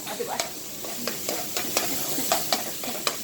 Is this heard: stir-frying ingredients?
yes